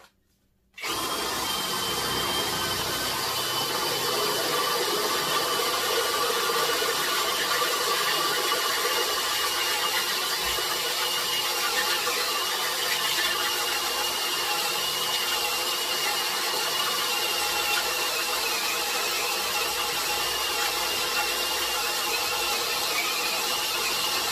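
A Ryobi or CAT cordless drill bores into metal at maximum torque and low speed, giving a loud, steady whine that starts after a brief pause and runs unbroken to the end.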